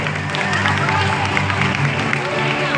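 Audience clapping for a dancer named Lavanya after her performance on stage at an event, a dense, continuous patter of applause from a crowd with murmuring voices mixed in.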